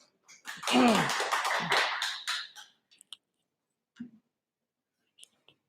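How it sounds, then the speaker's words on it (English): A short burst of audience applause for a speaker at a Ruby meetup, loud and dense for about two seconds, then fading into a few scattered claps and taps. "let's give a big round of applause for Ryan"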